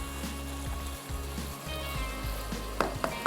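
Chicken liver masala frying in oil in a pan, a steady close sizzle with occasional stirring scrapes and small pops, no one speaking.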